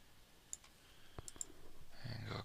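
Computer mouse clicking during drafting work: a few sharp, isolated clicks spaced through the clip, close and fairly quiet, with rising background noise toward the end.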